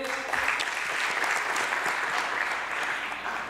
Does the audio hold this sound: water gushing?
no